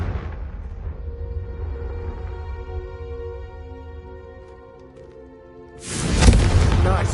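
The Confringo fire spell explodes in the Hogwarts Legacy game, a loud fiery burst arriving near the end after a quieter tonal stretch.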